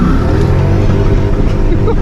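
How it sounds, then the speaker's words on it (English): A 2013 Dodge Charger R/T in rear-wheel drive holds high revs on a rainy drive, its engine a loud, continuous close-up roar. "Keep them RPMs up."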